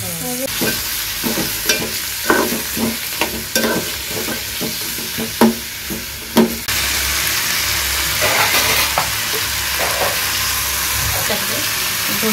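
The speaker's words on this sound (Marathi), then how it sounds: "थोडी लसूण, काजू आणि टोमॅटो भाजून घ्यायचं थोडं. हे जरा तेलामध्ये परतून घ्यायचं एवढं." Garlic, ginger, cashews and tomatoes sautéing in hot oil with whole spices, stirred with a spoon that scrapes the pan in quick strokes before a steady loud sizzle takes over, close up.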